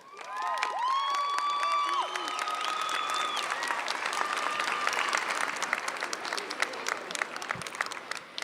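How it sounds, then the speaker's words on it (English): A crowd at a high school equivalency graduation ceremony applauds loved ones with sustained clapping, cheering and whoops, whistles and shouted voices rising over the dense, steady clapping. "Graduates, give them a round of applause."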